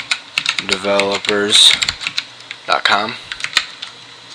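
Fingers tap a web address out on a computer keyboard in quick clusters of clicky keystrokes, close and fairly loud, while a voice reads the address aloud over the typing.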